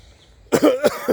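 A short burst of coughing after a moment of near silence, three or four close, raspy coughs in quick succession.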